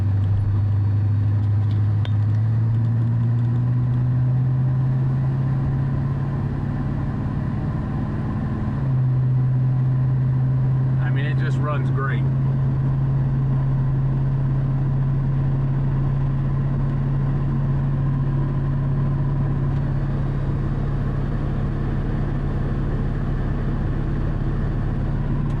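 Ford Super Duty pickup engine running steadily at road speed, a loud constant low drone that shifts slightly in pitch as it cruises, with faint clicks partway through.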